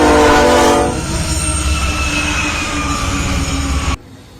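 A train passes close by with a loud, sustained horn blast over heavy rolling rumble and wheel squeal, the horn and roar holding steady before cutting off abruptly near the end.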